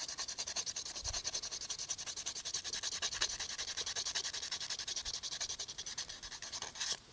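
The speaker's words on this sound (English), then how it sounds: "we're going to sand down our fishing lure" Sandpaper rubs paint off a small fishing lure in quick, even back-and-forth strokes, a close, steady rhythmic scratching that continues throughout without pause.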